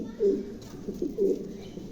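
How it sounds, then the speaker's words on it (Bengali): Two soft, low coos from a pair of racing pigeons, close by, separated by a short pause, over a quiet background. "প্রত্যেকটা কবুতরই দেখার মতন"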